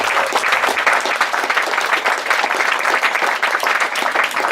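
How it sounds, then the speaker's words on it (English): Wedding guests clap together in a steady, full round of applause that fills the whole few seconds, dense and fairly close, with no speech over it. "I'd like a round of applause for Matt and Meg initially."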